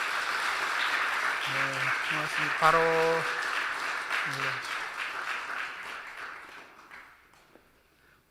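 A church congregation applauds its elders at a New Year's Eve service, a broad wash of clapping that carries through most of the clip while someone speaks over it and some tones sound, then fades out near the end.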